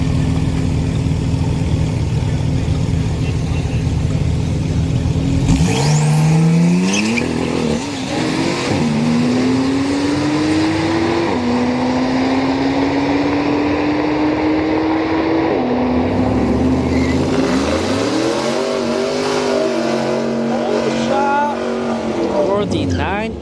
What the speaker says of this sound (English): Got a 911 going up against an AMG GT